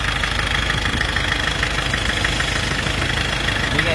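A 1994 Isuzu Panther engine idles steadily up close, a continuous low mechanical rumble with a faint knocking rhythm and no pauses or talk.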